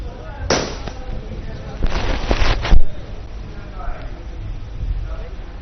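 Two loud bursts of celebration firecrackers outside a BJP office in Delhi crackle and pop, the second longer and more intense, followed by quieter distant background noise.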